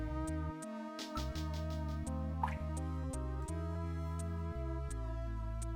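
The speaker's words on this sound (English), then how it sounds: "I can't confirm any sound except for the water drops and Little John's shorting out" Water dripping in Snatcher, a series of sharp, regularly spaced drips over a low sustained musical tone, with a faster burst of drops early on.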